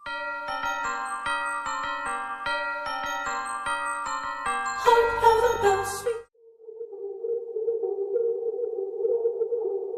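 Bell-like chimes from a sample of Carol of the Bells in a French rap track, a repeating tinkling pattern that breaks into a dense burst before giving way to a sustained low synth tone.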